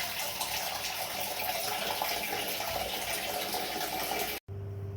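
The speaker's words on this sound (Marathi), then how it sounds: "पूजासाठी पाणी पण सोडून घेते" Tap water runs steadily at close range, a continuous broadband rush that fills the whole stretch before cutting off abruptly near the end, leaving only a low hum.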